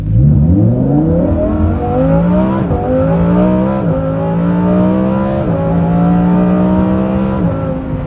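Lamborghini Huracan Performante with a Kline Innovation exhaust on the stock tune revving hard and close, rising through a series of sweeping pulls with brief dips between, loud and steady throughout, no voices.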